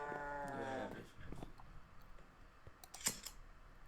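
A cow moos in Minecraft while its mushrooms are being sheared: one low, drawn-out moo opens the clip, followed by a few soft clicks and snips.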